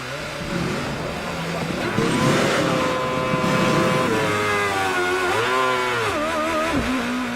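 Formula 1 race car engines howl around the Monaco circuit in F1 2013, loud and continuous, their pitch rising and dipping as the cars accelerate and shift.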